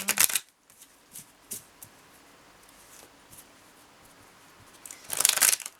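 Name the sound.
shuffling an oracle card deck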